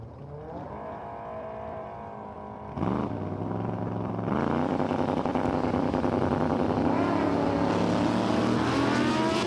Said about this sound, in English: Chris Adams, left lane 72 Chevy out of Cohocton, New York. He's first up for no box time trials